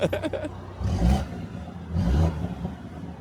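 A BMW M135i engine revs twice in quick bursts, each blip swelling and dropping off with a throaty exhaust note, heard from outside, preceded by a short rattling start.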